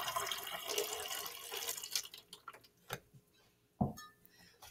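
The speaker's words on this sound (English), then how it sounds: "So I'm going to add 200 milliliters of water." Water, 200 milliliters, pours into a jug in a continuous splashing stream that tapers off, followed by a few sharp, isolated clinks and taps.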